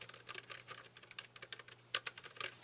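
Typing on a clicky keyboard, heard as a quick, uneven run of sharp key clicks. The clicks are close but quiet, with no talk over them.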